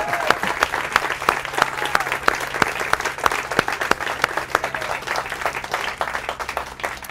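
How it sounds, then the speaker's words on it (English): An audience at a Merchant of Venice seminar with Eli Simon applauds the actors, a full, steady round of clapping from a room of many people that carries for about seven seconds without talk. "So how about a round of applause for our actors?"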